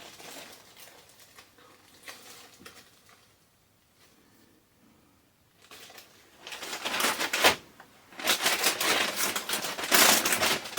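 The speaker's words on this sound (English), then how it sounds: "I'm just going to put these 2 containers in a small Ziploc bag to keep them from getting sticky all over everything." Two containers pushed into a small Ziploc plastic bag, making quiet rustling at first and then loud, close crinkling and crumpling bursts toward the end, with no talk.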